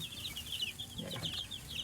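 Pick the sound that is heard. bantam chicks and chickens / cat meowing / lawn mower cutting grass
bantam chicks and chickens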